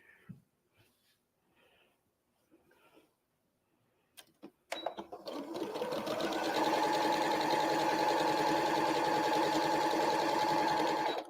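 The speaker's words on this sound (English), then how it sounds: "And I'm going to sew right along here." A sewing machine starts after a few soft handling sounds and runs steadily, stitching a quilt seam with a fast, even mechanical whir close by.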